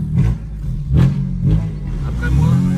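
A car engine idles and revs while warming up, giving a loud, close, low rumble that swells in a few short pulses of throttle over a steady idle.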